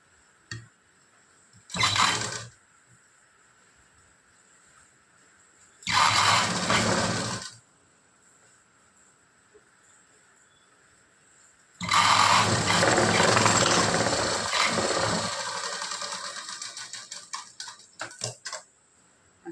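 A sewing machine stitches the yoke of a blouse in three separate runs of rapid, steady mechanical whirring, the last one longest and slowing to a few uneven stops, heard close with quiet gaps in between.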